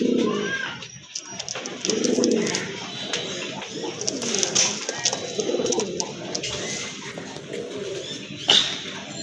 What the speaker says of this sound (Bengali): আরেক জোড়া কবুতর দেখতে পাচ্ছেন, টকটকে লাল কালার